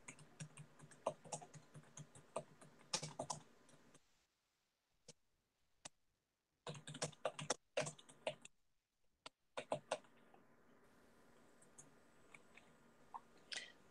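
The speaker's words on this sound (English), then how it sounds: "I'm typing fast." Fast typing on a computer keyboard: dense bursts of quick, close clicks separated by short pauses, with no voices.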